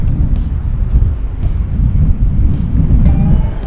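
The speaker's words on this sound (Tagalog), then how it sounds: "ayan po ang hangin no oh." Strong wind buffets the microphone in a steady low roar with gusty swells, loud and close throughout.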